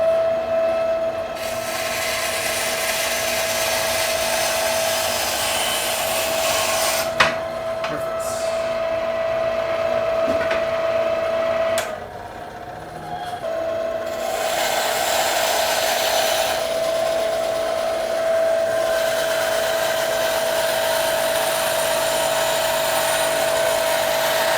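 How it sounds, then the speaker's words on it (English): Continuous loud, steady whine of a grinder removing steel from a pinned knife blank, holding a strong tone with a brief dip midway before resuming. "I'm just going to grind as much off as I can."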